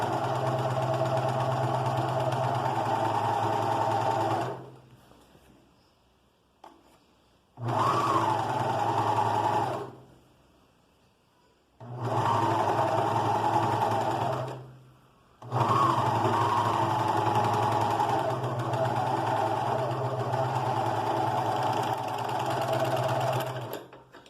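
An overlock sewing machine stitches the edges of a pleated skirt in four long bursts of fast, loud, close whirring, separated by short pauses, with no voices.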